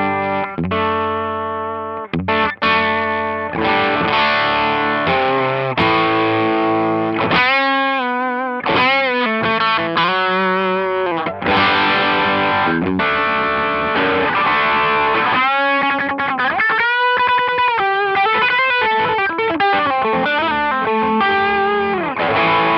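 Electric guitar driven through a Wampler Tumnus overdrive pedal at higher gain, played on the neck pickup with a throaty, distorted tone; sustained chords and melodic bends ring loud and continuous with no talking.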